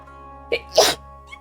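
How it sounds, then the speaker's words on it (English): A single sharp human sneeze heard nearby during a Genshin Impact play session, a short breathy intake followed by one explosive burst, set over a steady low background hum, with a faint sound after it. "That was an awkward sneeze."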